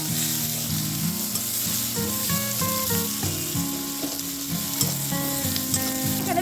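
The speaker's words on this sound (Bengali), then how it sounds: "পেঁয়াজ কুচিটা হালকা করে ভেজে নেবে।" Chopped onion with nigella seeds frying lightly in oil in a home kitchen, giving a steady, close, continuous sizzle and crackle for the whole stretch, with a melodic music bed running underneath and no talking.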